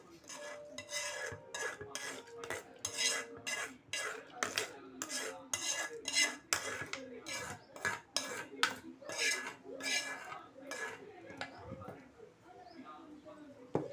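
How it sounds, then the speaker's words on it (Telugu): Metal utensils clatter and scrape against a pot in quick, repeated strikes while tempering is stirred into mango dal, loud and close throughout with faint talk underneath. "ఈ పప్పు అయిపోయింది కదండి, తాలింపు వేయడమేనండి."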